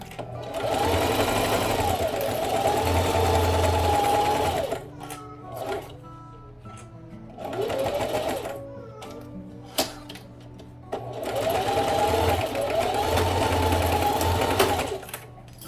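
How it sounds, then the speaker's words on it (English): A sewing machine back-stitches over a D-ring strap, running in rapid bursts of several seconds separated by short pauses and clicks, close and clear. "I'm back stitching a little bit over where my D-ring strap is, just to reinforce it a little bit more."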